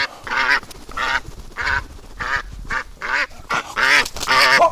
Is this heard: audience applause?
no